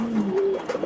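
Budapest pigeons cooing at a farm in Mirpur, a soft rolling coo with a few short throaty notes near the end, close and moderately loud, with no talking.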